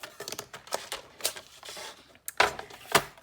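A paper trimmer cutting black cardstock, a series of quick close scraping and clicking strokes in short bursts, two sharper slices near the end, with no talk.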